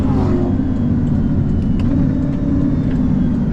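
A Bugatti Veyron hypercar driving in handling mode on a smooth road, its engine giving a loud, continuous close rumble with faint shifts in pitch as the paddle shifters change gears.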